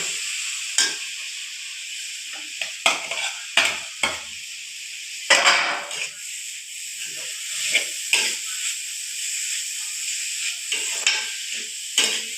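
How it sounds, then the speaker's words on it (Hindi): Vegetables for chicken Chinese rice sizzle in a hot pan, a steady bright hiss with repeated short scraping and stirring clatters spaced through the clip. "अभी ये सब्जियाँ डाल दी इधर।"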